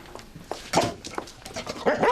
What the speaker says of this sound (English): Can't you keep your mutt under control, Mr. Armstrong?